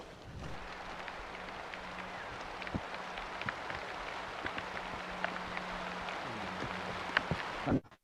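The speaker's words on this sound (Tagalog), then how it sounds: "Yan ang ulan utol eh." Steady rain falls outdoors in a broadband hiss with scattered drop ticks and a faint low hum running beneath, ending abruptly.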